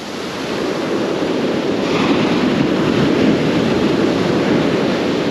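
Ocean surf breaks onto a beach in sets where someone is surf fishing, a broad, continuous roar of rushing water that swells and stays loud, with wind buffeting the microphone and no voices.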